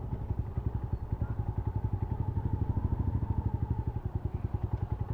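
A hot motorcycle engine runs close by with a fast, even chugging pulse, a steady low rumble with no other sounds over it.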